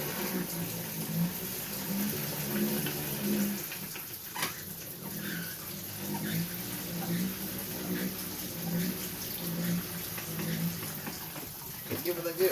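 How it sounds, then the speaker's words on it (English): Tap water runs steadily for rinsing green onions in a home kitchen, a continuous close splashing and gushing that lasts throughout, with a voice talking over it. "just turn the water on like this"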